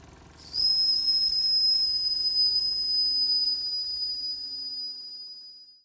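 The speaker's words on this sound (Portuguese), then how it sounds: "Este modelo de máquina a vapor é o que mais se assemelha com os utilizados no início da Revolução Industrial" A model steam engine of the early Industrial Revolution type sounds its steam whistle: one sustained, piercing high whistle with a breathy hiss, starting abruptly, holding steady and loud for about five seconds, then tapering off, with no talk.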